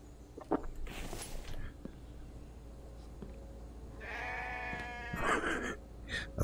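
Sheep in the survival game The Infected bleat a few times, with wavering, nasal calls near the middle and end over quiet background rustle and soft footsteps.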